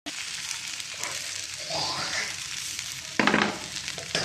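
Hilsa fish pieces sizzle on cooked spice paste in a pan, a continuous bright frying hiss that swells as the fish is laid in, with a louder burst near the end.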